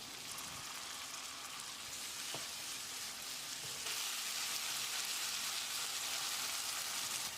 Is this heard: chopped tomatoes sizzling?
yes